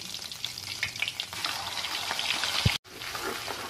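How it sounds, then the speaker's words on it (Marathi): Ground onion paste frying in hot oil in a kadai, a steady close sizzle with some stirring, cut off by a sharp clunk and a brief gap before the sizzle resumes. "तेल चांगलं गरम झाल्यानंतर वाटलेला कांदा घालू."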